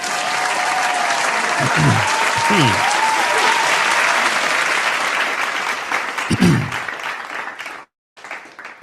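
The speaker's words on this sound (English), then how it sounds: "some more claps, some more claps" Dense, loud applause from an audience runs continuously with scattered whoops and voices mixed in. It thins out near the end, drops to a brief silence and then picks up again.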